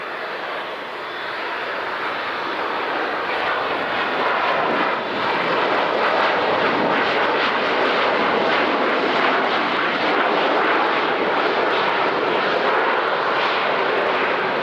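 Airliner landing at night at La Aurora airport in Guatemala: a loud, sustained jet engine roar building slightly as the plane passes close, filling the whole stretch with no talk.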